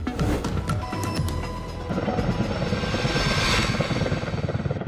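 A heli-crane and its supporting B3 helicopter fly over mountains on supply runs to transmission-tower work sites, their rotors and engines giving a loud, steady thudding roar that stays close and continuous throughout.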